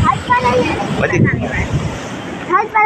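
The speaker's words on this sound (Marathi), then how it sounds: "हां अशी लाट येतात बाई." Sea waves wash in at high tide on the beach at Kolthare, a steady rushing surf with gusty wind noise on the microphone, while people talk over it throughout.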